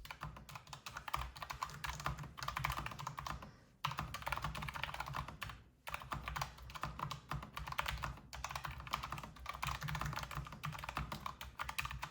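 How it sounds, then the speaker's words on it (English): Steady typing on a Logitech G915 keyboard with tactile brown switches, a close, continuous patter of key clicks and thocks with brief pauses. "And next we have the tactile or brown switches."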